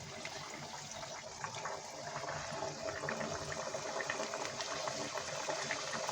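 Maida and fenugreek mathri frying in hot refined oil over a medium flame, giving a steady, dense bubbling sizzle that runs continuously and fairly close throughout, with no talking.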